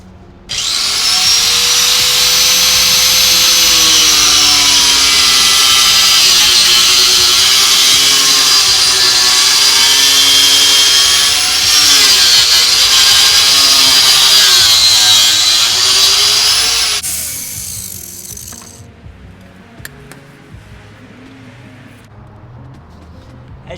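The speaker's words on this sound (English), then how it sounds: "I am going to take my angle grinder and we're going to cut this up" An angle grinder cuts through material in one loud, sustained whine that rises and falls slightly in pitch with pressure, then winds down and stops, leaving quiet handling noises.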